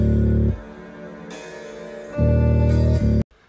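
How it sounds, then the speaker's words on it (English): Deep UK drill 808 bass pattern programmed in FL Studio, heavy sustained low notes alternating with gaps where hi-hats and percussion come through, loud and alone, ending abruptly. "So you've got your standard patterns that sound like this."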